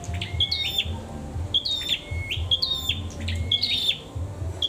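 Decoy birds chirp during a bird-trapping session, repeated bright, sharp calls in a regular rhythm, loud and close, over a steady background rumble.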